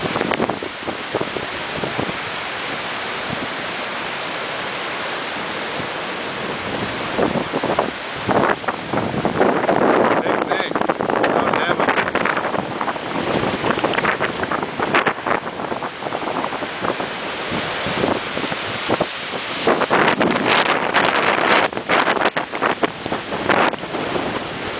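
Strong, relentless cyclone wind roaring and buffeting the microphone at Picnic Bay on Magnetic Island, Australia, in the aftermath of Cyclone Yasi, loud and continuous with gusty surges and no talk.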